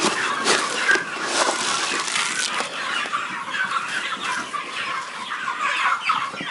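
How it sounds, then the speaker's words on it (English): Chickens clucking busily in a steady, overlapping chorus, close by and fairly loud, with scattered sharper squawks. "See how crazy those chickens is?"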